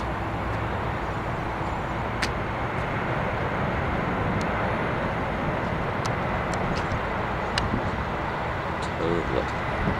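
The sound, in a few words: United Boeing 747-400 taking off at San Francisco airport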